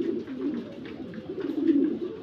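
Paired pigeons kept for eggs and chicks coo in low, throaty bursts close by, several overlapping calls rising and falling without pause.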